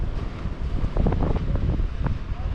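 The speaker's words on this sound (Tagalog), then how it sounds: "laban na naman to ngayon sa malakas na alon" Strong wind and heavy waves batter a boat at sea between Mindoro and Navotas, a continuous roar of gusts over deep, irregular sloshing and thumping water, close and fairly loud.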